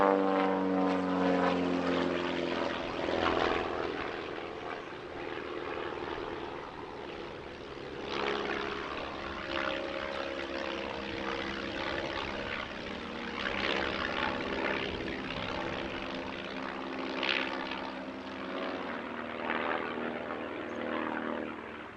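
A four-ship propeller aircraft formation team, the Ballistic Barnstormers, flies at an airshow with a continuous droning engine roar that swells and fades as the planes pass at a middling distance.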